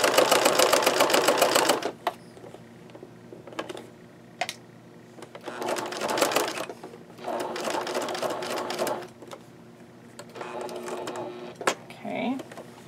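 A sewing machine stitches through the layers of a canvas journal cover in bursts of rapid mechanical whirring, separated by pauses and small handling clicks, with someone talking quietly in the gaps.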